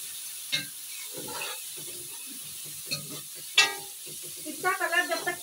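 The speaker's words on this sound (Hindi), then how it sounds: "प्याज और लहसुन अदरक के पेस्ट के साथ हमें गोश्त को अच्छे तरीके से भूनना है।" Mutton being fried and stirred in a pan with onion and garlic-ginger paste, soft sizzling with a few scraping stirs and clinks, close up, no talking.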